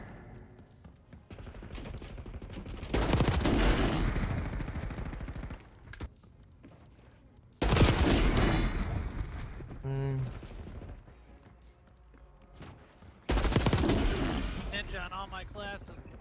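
Hip-fired gunfire in the video game Black Ops 6 multiplayer: three loud sustained automatic bursts separated by quieter gameplay noise, with some speech in between.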